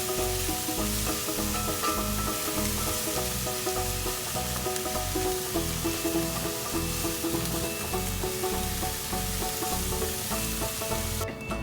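Sliced peppers and onions sizzle in a pan while being stirred, a loud continuous fry with a steady rhythmic scraping of the spoon close up and no talking.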